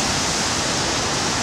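Powerful waves crash and churn without pause at a beach on the corniche, a dense, loud surf roar that fills the whole short stretch with no voices.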